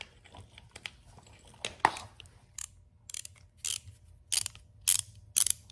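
A heavy-duty 1/2-inch drive ratchet turning a triple square bit on an Audi 2.0T TFSI engine gives close, irregular clusters of sharp clicking.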